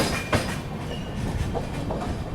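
A superfast express train on an Indian line runs at speed past Tundla Junction while overtaking another train, steady close rumble and wheel clatter with a few sharp rail clicks, no voices.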